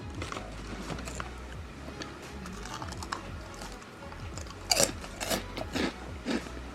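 Crunchy bites into flaming chili Peatos, a spicy pea-based snack, with several sharp close crunches clustered toward the end over a low background hum, no talking.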